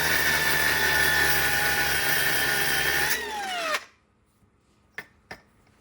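A power tool cuts through an aluminum differential cover on a Jaguar with a loud, steady, high-pitched whine that winds down and stops. A couple of sharp clanks follow in near silence.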